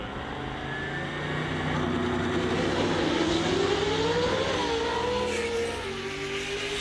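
A Camaro drag racing down the strip, its engine roaring and rising in pitch as it accelerates, heard fairly loud at a distance and steady for several seconds, without talk.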